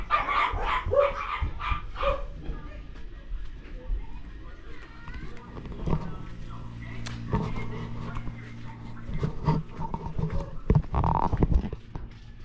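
A dog barks several times, loud and close, near the start, followed by quieter scattered sounds and a person talking nearby in a busy outdoor setting.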